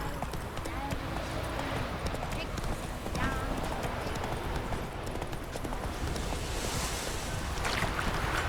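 Horse hooves galloping in The Witcher 3, a steady rapid clip-clop running continuously under ambient wind and water-like game sound, with a voice talking over it.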